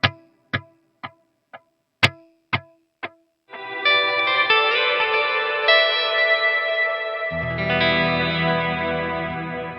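A run of plucked guitar notes with echoing delay repeats, played through an HX Stomp with no reverb, gives way to a sustained, shimmering chord wash, dry and spacious, played alone.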